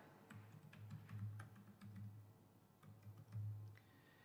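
Password typed on a computer keyboard, heard as scattered light key clicks in small bursts over a low steady hum, fairly faint and with no talk.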